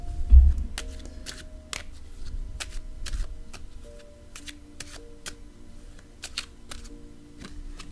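A deck of cards is shuffled and drawn, producing a series of sharp riffling snaps and soft slides at irregular intervals, close and fairly quiet with no talk.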